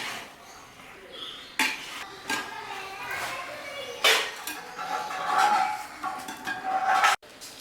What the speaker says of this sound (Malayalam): നന്നായിട്ട് മിക്സ് ചെയ്ത് കൊടുക്കുക